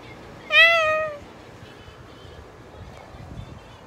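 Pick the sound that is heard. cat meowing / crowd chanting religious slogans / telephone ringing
cat meowing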